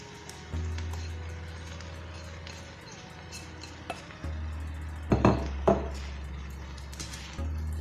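Cooked buckwheat with fried mushrooms, onion and red pepper being stirred in a pan, with repeated scraping and clinks of a utensil against the metal and a louder clattering burst near the end under a steady low hum.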